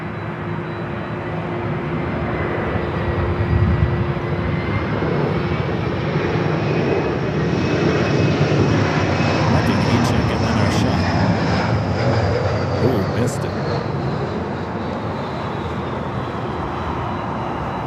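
An airliner taking off from runway 24 left at LAX, a loud, continuous engine roar with a slowly shifting whine that swells and holds steady across the whole stretch, distant rumble underneath and no clear talk.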